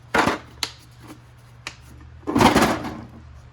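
The bottom drawer of a secondhand metal toolbox slides open with short scraping rattles and metal-on-metal clunks, ending in a louder, longer rolling slide close to the microphone.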